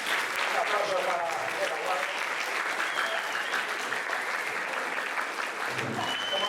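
Audience at a talk breaks into sustained applause, a dense wash of clapping at steady volume that fades slightly near the end, with no voices audible.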